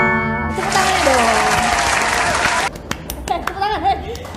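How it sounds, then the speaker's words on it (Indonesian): A short burst of brisk hand clapping from a few people indoors, loud and close for about two seconds, with a voice before it and a voice and chatter after. "Tepuk tangannya dong."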